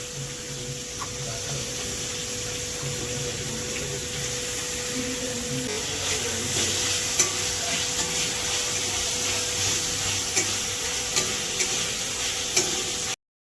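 Capsicum, carrot and onion sautéing in a pan for soya chilli, a steady soft sizzle with occasional light scrapes and clicks of stirring throughout.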